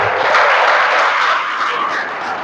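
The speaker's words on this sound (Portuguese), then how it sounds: "então também aplauda Jesus" An audience in a church applauds in a dense, sustained wash of clapping that fills the space, fairly loud and close, easing slightly toward the end.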